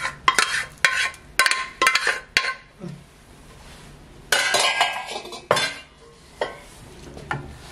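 Cooked raw mango and lentils are poured from a pan into a clay pot, with repeated ladle scrapes and clinks against cookware in uneven bursts, close by, separated by brief pauses.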